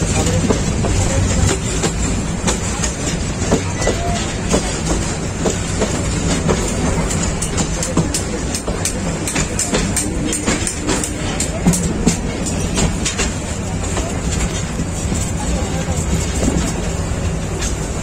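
The 802 Chattala Express between Dhaka and Chittagong runs near Brahmanbaria, a loud, steady rumble with rhythmic clickety-clack from the wheels that continues without a break.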